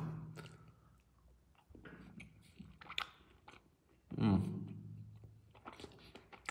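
Someone chews a bite of baked avocado chicken steak with chutney, soft crunching and squishy mastication close to the mouth, broken into bursts between spoken remarks.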